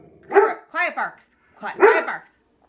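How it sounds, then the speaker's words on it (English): A dog barking and yipping close by in a few short, strained bursts, with gaps between them and no other sounds. "quiet barks, good, let me hear quiet barks"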